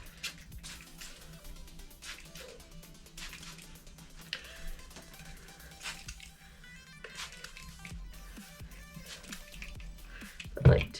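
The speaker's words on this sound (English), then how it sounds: "the first thing I'm going to do is actually dampen my hair a little bit with regular water" Hair being dampened with plain water before brushing, to treat chlorine-damaged hair: soft, close dripping and squishing wet sounds that continue steadily, with a louder splash near the end.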